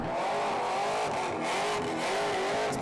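A supercharged burnout car roars continuously at high revs, its blower-equipped engine loud and harsh with rising and falling throttle blips, likely amid tire squeal at an Australian burnout competition.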